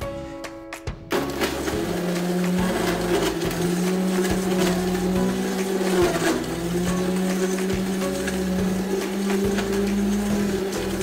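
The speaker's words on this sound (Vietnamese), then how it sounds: "Tiếp theo sử dụng máy xay sinh tố" An electric blender crushes ice for a watermelon mango yoghurt tea, starting with a few clunks and then grinding loudly and steadily with a pulsing motor whine.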